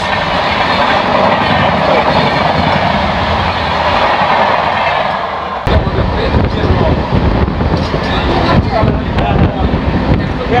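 Howrah–Jabalpur Shaktipunj Express, train no. 11448, rolls past close by with loud, steady rumble and wheel clatter, a sharp change in pitch midway as carriages sweep by, with wind buffeting throughout.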